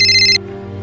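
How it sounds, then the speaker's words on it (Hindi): A telephone rings with a bright electronic trill for a short burst, then cuts off, leaving a low steady hum underneath. "बाबा का फोन है।"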